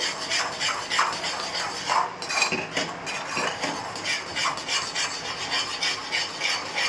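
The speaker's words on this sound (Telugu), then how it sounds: "ఇట్లా చిదుముకుంటూ మనం కలుపుతూ ఉండాలి" Jowar rava (sorghum semolina) dough being mashed and mixed by hand in a bowl gives a steady, soft rasping and squishing with light scraping, close up and continuous, with no talk.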